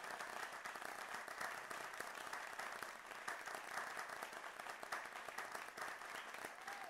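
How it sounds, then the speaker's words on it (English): Continuous applause for debaters at a youth parliamentary debate session, steady even clapping from a sizeable audience, heard fairly faint and distant throughout. "Round of applause to the debaters"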